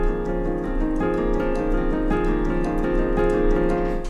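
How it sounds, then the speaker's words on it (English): Piano playing the romantic waltz accompaniment of a song from Into the Woods, a steady lilting figure at moderate volume with no voices. "And the piano accompaniment for that song sounds like this."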